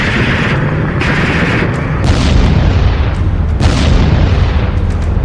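Missile attack explosions in Donetsk: dense, very loud booming rumbles that roll and overlap with sudden blasts and no break of quiet.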